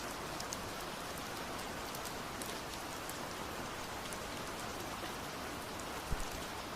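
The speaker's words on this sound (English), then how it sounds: "It's raining again." Rain falls steadily, an even, moderate hiss of drops with occasional sharper individual taps standing out, continuous and unaccompanied by any voice.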